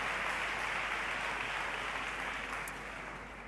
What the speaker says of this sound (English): I think that we should give one round of applause to Erik